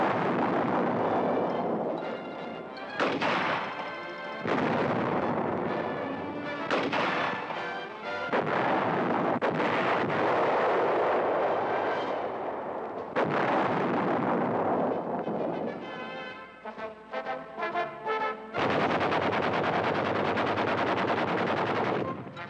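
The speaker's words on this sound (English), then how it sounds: "A highlight of the Armored Birthday Party is a firepower demonstration." Artillery and heavy weapons firing at an Armored Division firepower demonstration during a military birthday celebration. Loud booming blasts and rumbling explosions roll almost continuously, with sharper rapid reports breaking through near the end.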